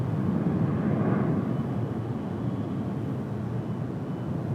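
A United airliner taxis toward the long runway for departure at an airport, a steady broad engine roar heard from a distance, continuous and moderately loud with no speech.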